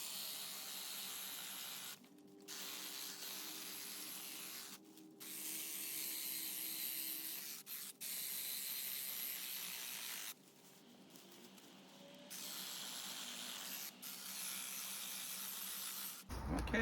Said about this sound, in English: It's a battery operated hedge trimmer.